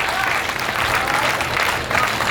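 Sustained applause from a large Hindi-speaking audience at a live comedy or religious discourse event, steady dense clapping filling the whole moment at fairly close range without a break.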